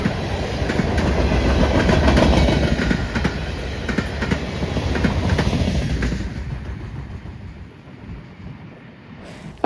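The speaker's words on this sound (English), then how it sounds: "Our next train is Amtrak PO40 with a Charger in lead and a P42 in trail." An Amtrak passenger train led by a Charger locomotive with a P42 trailing rumbles past close by, loud with steady clickety-clack of wheels that fades after about six seconds, leaving wind noise.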